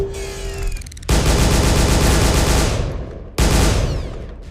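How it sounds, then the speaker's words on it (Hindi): Loud bursts of gunfire from the Hindi-dubbed action movie It Came from the Desert rattle continuously, a dense volley that cuts off briefly and then resumes just as intensely. "गोली चलाओ।"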